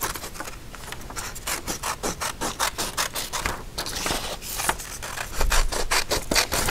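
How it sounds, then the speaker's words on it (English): Scissors snip through paper to cut out a flap for a flip book, producing a quick series of crisp cutting and rubbing strokes, close and fairly loud, with no voices. "I'm going to cut it out."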